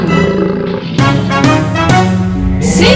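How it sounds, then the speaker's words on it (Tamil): A lion roars loudly and close in a children's rhyme, with deep repeated bursts over a backing of music. "இதுதான் சிங்கம்னு சொல்லுவாங்க"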